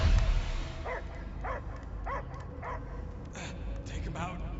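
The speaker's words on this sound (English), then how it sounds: "I hear only barking" A dog in the Guardians of the Galaxy video game gives a run of short, evenly spaced yelping barks, fairly soft and set back behind a steady low rumble of game ambience.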